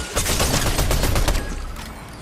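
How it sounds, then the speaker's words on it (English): Video game gunfire rattles in a dense burst of rapid automatic shots up close, then thins out toward the end, with no talk over it. "somebody's still shooting at me"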